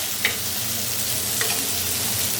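Potatoes and bitter gourd being stirred while frying steadily in hot oil in a pan for a hilsa curry, a continuous close sizzle with two brief scraping clinks of the spatula.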